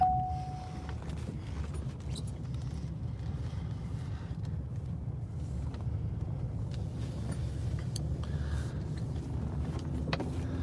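Steady low engine and road rumble fills a moving car's cabin for the whole stretch, even and continuous, with a few faint clicks and no talking.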